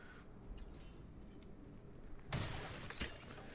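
Objects smash and shatter in a Whirlwind/Deathblow Barbarian video game, a sudden loud crashing burst followed by another sharp break, over a steady game background.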